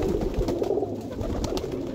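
Pigeons in a bird house where breeding pairs are kept coo steadily and fairly close, with low throaty calls continuing over soft background noise for the whole moment.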